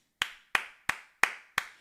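Five separate hand claps at an even, unhurried pace from one person clapping for two guys on a live stream, each clap sharp and close with a short decay and silence between.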